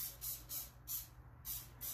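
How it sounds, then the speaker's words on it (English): Canola oil spritzed from a spray can onto cauliflower before grilling on a Weber kettle, heard as a string of short airy hisses in quick succession, close and fairly soft. "So I have a little bit of spray canola oil."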